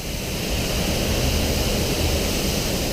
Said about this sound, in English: It's the big waterfalls now.